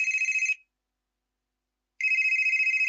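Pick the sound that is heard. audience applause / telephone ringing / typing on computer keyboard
telephone ringing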